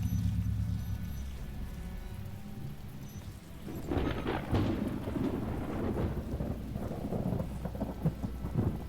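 Thunder and rain in The Talos Principle game: a steady rain hiss broken by a loud thunder crack and long rolling rumble midway, with no talk.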